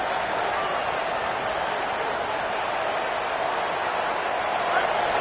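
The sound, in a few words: stadium crowd noise at a college football game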